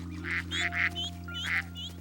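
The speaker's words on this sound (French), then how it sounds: "Caillou était tout content de pouvoir s'approcher si près du caneton. Bonjour, petit canard." Cartoon ducklings quacking: a quick run of bright, nasal quacks in two short bursts over a steady low hum.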